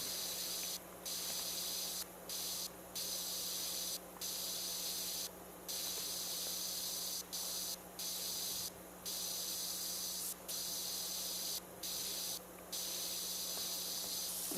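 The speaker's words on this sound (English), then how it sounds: "And we did spray this area with soap, so we can spray it off" A pressure washer in the video game PowerWash Simulator 2 rinses soap off a surface in repeated bursts of steady spraying hiss, each cut by brief pauses, moderately quiet and without talk.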